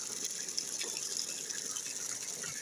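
Water gushes steadily into a bucket, a continuous bright splashing rush without pause.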